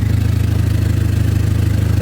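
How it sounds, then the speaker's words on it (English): A Dodge SRT-4 idling with an exhaust leak under the middle of the car, a steady low rumbling idle with a rapid even pulse, close and fairly loud. "that's the exhaust leak."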